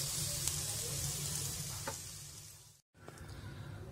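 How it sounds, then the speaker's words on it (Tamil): Groundnuts for chutney sautéing in a pan, with a continuous close sizzle and crackle, a brief soft stir, and a short break near the end. "இந்த அளவுக்கு வதக்கினா போதுங்க, பாருங்க லைட்டாக ப்ரௌன் ஆயிருக்கு."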